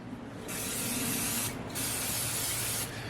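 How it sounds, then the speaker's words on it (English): Two long hissing bursts of cooking oil sprayed from a can over a glass baking dish, the first about a second long and the second longer, close and clear with brief quiet gaps. "I'm going to use a spray oil"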